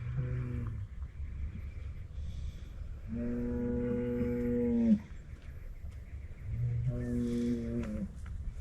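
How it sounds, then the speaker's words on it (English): Cattle lowing in the Arizona desert, three long drawn-out moos in a row with pauses between, moderately close and clear against a steady outdoor background hum. "Cows."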